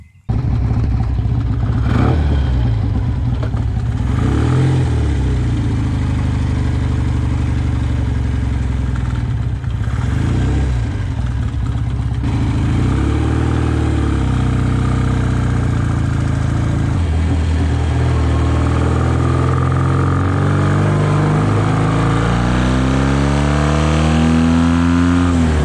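A classic BSA A10 motorcycle is ridden to the pub through a village, its engine droning loudly and continuously, the pitch rising and falling through gear changes and acceleration beneath steady wind rush.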